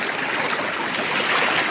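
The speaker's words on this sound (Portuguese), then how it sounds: "Essa cachoeira vem corrente, gente." Broadband rushing water from a campsite waterfall with a strong current, a steady loud roar that fills the whole clip with no voices.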